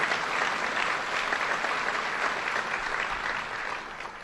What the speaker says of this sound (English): Let's give another round of applause to the REDC and everyone who put it together.